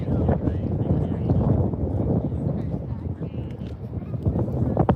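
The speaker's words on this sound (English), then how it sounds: "It's very windy today." Gusting wind buffets a handheld microphone outdoors at an aviation museum open-cockpit day, producing a continuous rumbling roar that swells and eases throughout.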